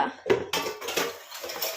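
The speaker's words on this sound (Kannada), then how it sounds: "ಆ್ಯಂಡ್ ಇಲ್ಲಿ ಪಾತ್ರೆ ಉಜ್ಜುತ್ತಾ ಇದ್ದಾರೆ" Metal cooking vessels clatter and scrape in a few short bursts, close by, as they are scrubbed.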